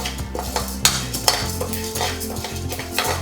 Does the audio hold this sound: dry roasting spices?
yes